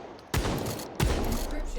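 Red dot–sighted pistol fire in a video game, two sharp shots each followed by a dense, noisy burst that fills the short moment, loud and close.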